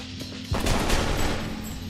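An automatic turret in a video game opens fire: after a half-second lull, a loud, dense stream of rapid shots rattles on continuously to the end.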